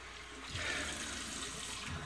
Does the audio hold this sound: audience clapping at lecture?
no